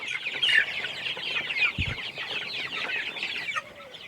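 Native country chickens on a farm cluck steadily in a dense, overlapping chorus at moderate loudness, with a brief low thump partway through and no talking.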